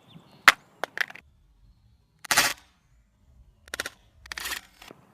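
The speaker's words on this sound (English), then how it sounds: "iPhone 6 face down drop test, 10 feet" An iPhone 6 dropped face down from 10 feet hits the ground with a sharp crack, followed by a few brief clattering impacts and bounces, close and loud, with short gaps of silence between them.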